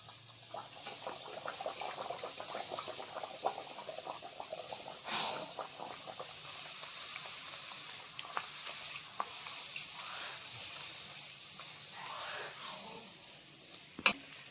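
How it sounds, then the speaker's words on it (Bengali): Rolled naan dough fries in hot oil with a continuous bubbling sizzle, close and moderately loud, ending in a single sharp clink. "এটাকে এবার তেলে আমরা ছেড়ে দেবো।"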